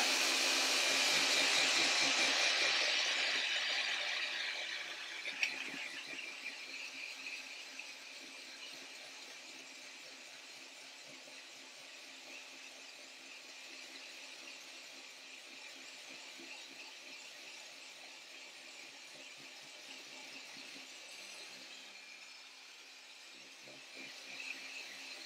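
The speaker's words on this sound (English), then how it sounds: "Let's just blend it a bit more. Do a bit of damage to your ears." A kitchen blender whirs loudly at the start while blending a vegan fish-free finger mixture, then drops to a steadier, quieter motor hum that runs for the rest of the stretch with no talk.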